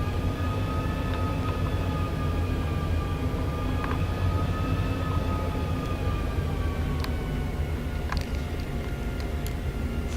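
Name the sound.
airliner taxiing on runway in a flight simulator video game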